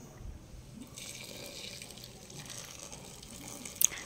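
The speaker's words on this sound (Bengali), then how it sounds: "এখানটা আমি গরম জল এখন ঢেলে নেব।" Hot water poured into a pressure cooker holding desi chicken, a steady soft splashing stream running for several seconds at moderate level, with a brief sharper clink near the end.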